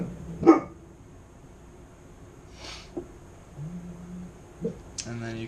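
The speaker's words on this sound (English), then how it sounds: "Sorry about my dog, he's being quite the pain in the butt today." A dog gives a few short, separate barks and snorts, fairly close by, with quiet gaps between them and a voice talking briefly.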